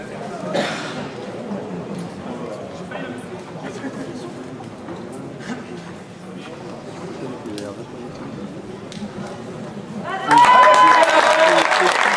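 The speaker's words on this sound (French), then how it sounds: "Vous pouvez applaudir ces deux grands champions que sont Sylvain Broche et Nicolas Wamba." An audience at a tournament final murmurs and talks for several seconds. Then a loud, broadband burst of applause for the two finalists breaks out near the end.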